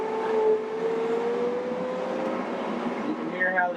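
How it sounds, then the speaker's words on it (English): A 2023 TYM T574HC tractor engine revs upward as its automatic RPM increase kicks in, a steady droning hum that climbs in pitch toward the end, close and fairly loud. "you can hear how the engine speeds up with that auto increase on the engine RPM"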